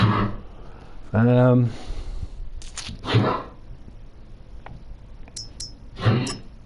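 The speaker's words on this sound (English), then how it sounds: "That's my dog coughing, by the way" A sick dog gives a few short, rough hacking coughs spaced over several seconds, close by, with a person talking in between.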